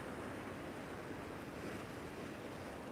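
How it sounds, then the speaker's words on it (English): Wind blows steadily outdoors on a rainy morning in Blackpool, a constant broad rushing roar buffeting the microphone with no pauses. "Oh, it's windy. It's blowing behind me."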